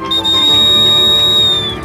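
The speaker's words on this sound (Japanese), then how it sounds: "なるほど、石板を隠していたこの草で草笛を作ったんだね。" A grass whistle made from a blade of grass gives one long, steady, shrill tone, loud and held for nearly two seconds before it tails off, with no voices.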